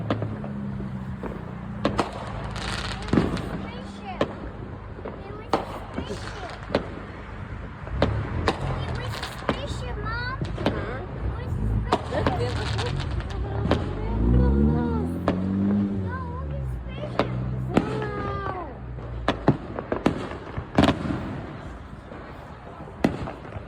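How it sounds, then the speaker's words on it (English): Fireworks go off in a scattered series of sharp bangs and crackling pops at a distance, with faint voices murmuring in between. "you're going to see some clearly fireworks are going off"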